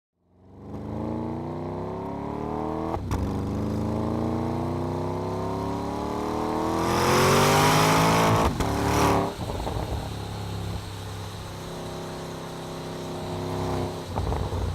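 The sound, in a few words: 2014 Porsche Panamera Turbo driving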